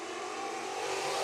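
An IMCA Sport Modified race car on the Bakersfield Speedway dirt oval, its engine droning loud and steady with a rising roar as it spins out during a heat race, no voices.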